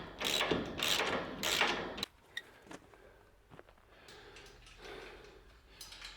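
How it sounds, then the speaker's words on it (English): Metal clicks and ratcheting from a spanner undoing the side panel bolts on a Cub Cadet XZ6 Ultime zero turn mower, a loud burst of rapid ratchet strokes followed by quieter scattered clinks and taps. "So I'll go and get my spanner and take these off."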